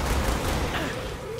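Pistol fire in the video game Killing Floor 2, dense continuous noisy gunfire and combat sounds filling the short moment at steady loudness.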